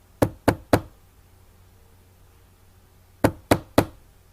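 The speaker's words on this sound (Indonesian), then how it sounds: "tiba-tiba pintu rumah kontrakannya ada yang mengetuk." Two sets of three sharp knocks on a door, separated by a pause of about three seconds, in a quiet room.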